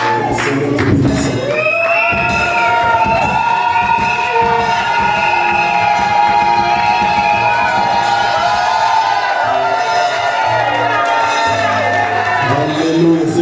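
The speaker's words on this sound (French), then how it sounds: "Les cris de joie." Wedding guests at a church ceremony cheer, shout and whoop with joy, a loud sustained crowd roar with high voices and children's shouts throughout.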